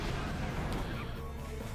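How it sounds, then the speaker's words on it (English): An explosion in the video game Ratchet and Clank Up Your Arsenal, a loud booming blast that rumbles and then fades under continuing game noise. "And the explosion also destroys them."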